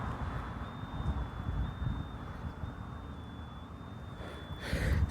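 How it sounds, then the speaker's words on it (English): A Denko Vista burglar alarm sounds as a continuous, thin high-pitched tone from some distance, faint but steady throughout beneath a low rumble of wind and passing traffic. "This place alarm's going off."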